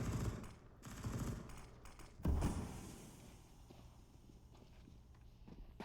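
A single sharp AWP sniper rifle shot fired from a window on the Mirage map in CS:GO, standing out clearly amid softer in-game footsteps and scattered background game sounds.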